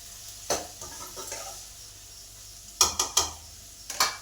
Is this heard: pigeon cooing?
no